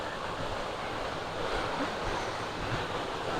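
Bangon Falls waterfall pours in a constant broadband rush, a moderate wash of falling water with some wind buffeting, and no voices.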